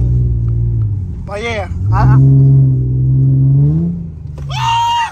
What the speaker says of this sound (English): Damn, this car is loud.